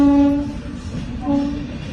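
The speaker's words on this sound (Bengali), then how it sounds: "এই যে ট্রেন আসছে" A train passes near a bridge with a low rumble, and two tonal horn-like blasts sound, one at the start and another about a second later.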